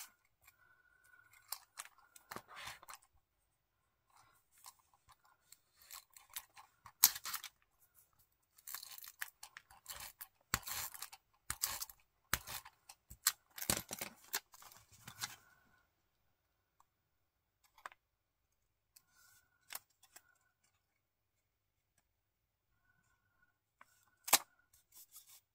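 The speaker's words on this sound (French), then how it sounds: "je vais couper l'excédent" Small scissors trimming excess paper from an art collage, sparse clusters of crisp close snips and clicks separated by quiet pauses, with a final isolated cut near the end.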